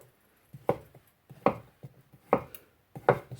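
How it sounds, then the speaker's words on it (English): Potatoes being sliced thin with a knife on a board for a Spanish tortilla, four crisp, evenly spaced cuts close up with quiet pauses between them. "All I do is just slice them"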